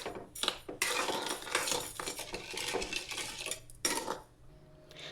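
Sugar syrup for caramel custard cake being stirred in a metal pot, with repeated clinking and scraping of a spoon against the pot in quick irregular strokes, close and fairly loud, with brief pauses.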